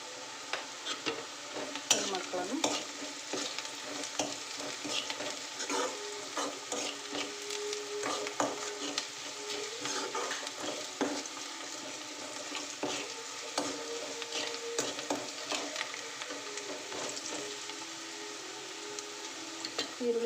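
Onions frying in a pan, a constant quiet sizzle broken by frequent scraping stir strokes throughout.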